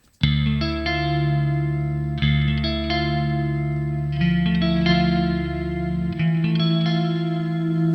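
A distorted electric guitar through an amp plugin with reverb and delay off plays sustained chords, changing roughly every two seconds, dry and upfront with a thick, buzzing tone.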